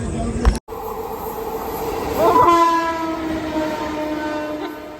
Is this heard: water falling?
no